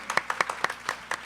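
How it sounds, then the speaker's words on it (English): Scattered handclaps ring out in an uneven rhythm at a Hindu wedding ceremony with Sanskrit chanting, a handful of people clapping briefly rather than a full crowd. "Big round of continuous applause and a big round"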